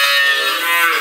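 Goat on an Amish farm letting out a single loud, close, harmonic bleat lasting about a second.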